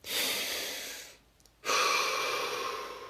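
One person takes a slow, deep breath: a long airy inhale, a brief quiet hold, then a full audible exhale, close and clear with no talking.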